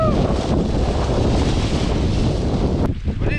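Strong wind batters the microphone in a loud, continuous roar of buffeting gusts, easing slightly near the end.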